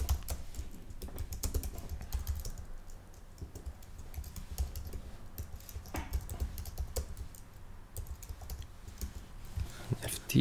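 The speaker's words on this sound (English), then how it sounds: "I'm going to write text" Text typed on a computer keyboard, a steady run of close, quick key clicks and taps continuing throughout without talking.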